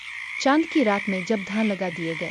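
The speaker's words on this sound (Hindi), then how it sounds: "तो मेंढकों ने अपना बड़ा गीत शुरू किया।" Frogs croak in flooded rice paddies on a moonlit night, with loud, close calls repeating in quick rhythmic bursts.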